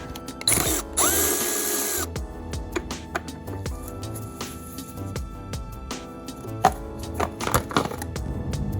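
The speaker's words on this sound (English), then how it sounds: "Use my wrench, loosen it, loosen that bottom 10mm head bolt, swivel socket, 10mm." Ratchet wrench and swivel socket working a 10mm bolt on a 2004 Honda Civic engine during a timing belt and water pump job, with a burst of power-tool whir followed by close, irregular metallic clicks and clanks of the tools.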